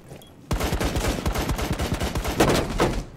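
Video game gunfire erupts suddenly after a brief quiet: rapid, loud bursts of shots in a dense rattling rhythm for about three seconds, with no voices.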